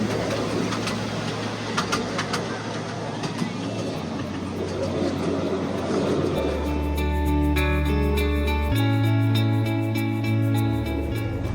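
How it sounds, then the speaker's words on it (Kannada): A bullet train passes in Japan, its loud, steady rising mechanical drone and hum taking over midway after pigeons coo and birds chirp outdoors. "Bullet train."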